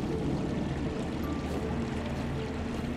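Water flowing in the video game Trine 4 after being redirected by a shield: a steady, dense rushing and pouring wash with no breaks, fairly loud and continuous, without any speech over it.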